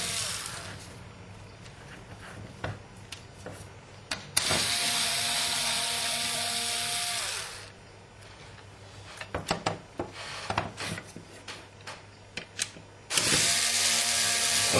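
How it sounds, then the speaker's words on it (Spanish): Screws are loosened on a PlayStation 2 case, with a close screwdriver rasping and ratcheting in two long stretches, separated by quieter scattered clicks and handling noise. "Procedemos y aflojamos los tornillos."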